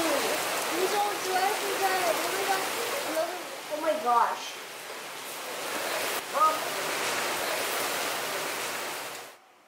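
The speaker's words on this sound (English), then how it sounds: "It's raining." Steady rain falls at the Discovery Shores beach resort on Boracay, a broad even hiss close around, while people talk and a voice rises briefly over it before it cuts off.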